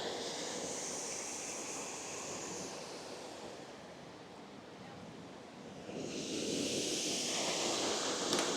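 Steady rushing water fills the scene, a broad continuous roar that dips slightly in the middle and swells louder again toward the end.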